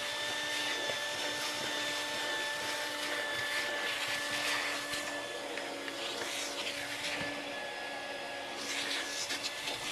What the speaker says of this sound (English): What we're going to use up here to finish off the deck of the boat is a wet dry vac